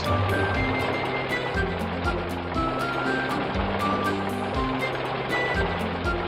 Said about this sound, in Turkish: Beton mikseri beton getirmiş.